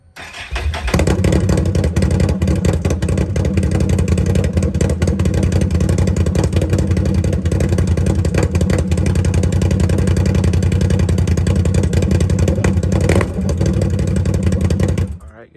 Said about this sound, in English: let's see how it sounds without an exhaust or nothing on it, just straight pipe